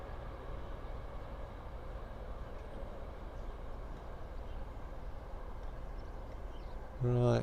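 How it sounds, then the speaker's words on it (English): Steady low rumble of a train rolling past, continuous and fairly loud, with broadband rail noise filling the whole stretch. "We've got a train coming through, so I'm just going to wait for the train to go."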